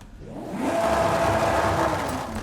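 A V12 car engine in Forza Horizon 5 hums and swells steadily, its revving tone rising briefly and then holding for a couple of seconds.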